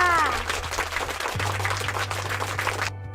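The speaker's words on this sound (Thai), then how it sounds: "ปรบมือให้กับนักเรียนและก็ทอดดัง ๆ เลยค่ะ" Students in a classroom applaud together during a science lesson on loud and soft sounds, a dense, steady burst of many hands clapping close by for about three seconds before stopping abruptly, with a low hum underneath.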